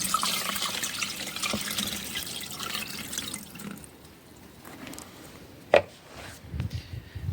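Water being poured from one container into another, a splashing gush that fades into trickles, followed by a sharp knock and a few smaller handling sounds.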